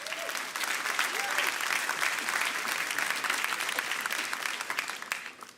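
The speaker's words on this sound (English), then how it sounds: "Let's have a round of applause for that amazing prize pot." Sustained audience applause fills a summit hall, a steady dense wash of many hands that holds for several seconds before tapering off, with faint murmurs beneath.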